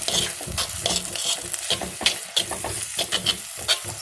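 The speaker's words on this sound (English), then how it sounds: "So we need to fry it until brown, golden brown in color." Country chicken frying in a claypot, rapid repeated scraping strokes of a spoon stirring over a bubbling sizzle, close and busy throughout.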